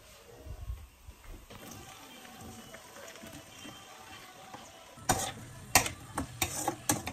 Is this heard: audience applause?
no